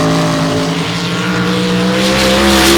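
A drag racing car launches hard down the strip at an MRA Outlaw event, its engine a loud, close, sustained roar with a steady rising drone across the whole stretch.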